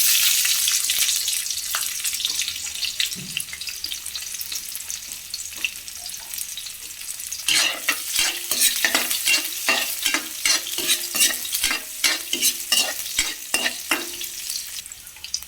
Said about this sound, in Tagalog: Nagpainit na ko ng mantika guys. Lagay ko na ang bawang. Isunod ko ng sibuyas.